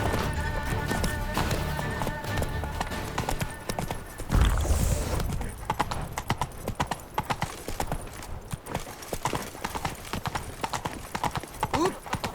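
Horse hooves clip-clopping at a gallop in The Witcher 3 video game, a steady rapid rhythm that runs through the clip under game music, with a brief whinny partway through.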